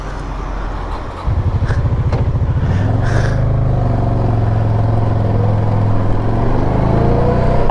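A Honda PC800 motorcycle from the 1980s being ridden. The engine hum rises and settles into a loud, steady drone close by, with wind noise throughout and no talking.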